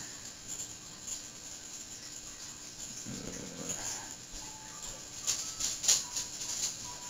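A dog inside a game, heard as a brief growl or whimper amid steady game background noise, with a few sharper yips and sounds near the end.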